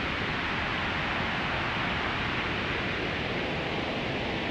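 Synthesized white noise sent through a convolution reverb, a steady, dense hiss like rushing wind or rain that holds at an even, moderate level throughout with no other sounds.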